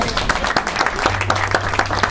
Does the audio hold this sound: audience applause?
yes